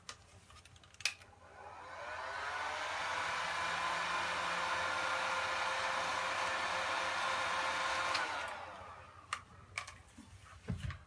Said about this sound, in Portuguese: Eu vou dar uma secadinha para conseguir fazer os demais lados. Eu vou utilizar um soprador, mas quem tiver secador também pode usar.